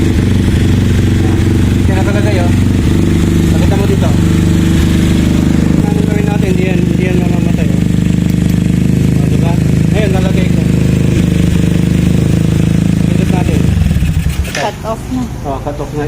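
A KRY 200cc motorcycle engine runs at a steady, loud idle close by, its low throbbing rumble continuous for most of the stretch before cutting off abruptly near the end, with a person talking over it.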